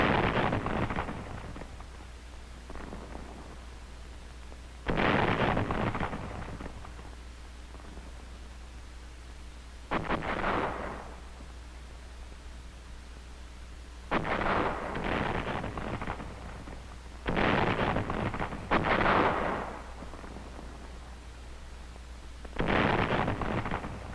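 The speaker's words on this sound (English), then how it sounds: "Demolition squads and small arms fire sometimes were the only means by which the enemy could be" Explosions and gunfire from 1944 WWII battle footage of Saipan, with demolition charges and small arms fire, come as several loud broadband bursts a few seconds apart over a constant hiss from the old film soundtrack.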